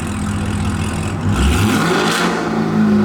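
A 2021 Chevrolet Camaro SS with an aftermarket exhaust revs to about 2,000 RPM while parked in neutral, a deep, close burbling rumble that swells once midway and then settles back.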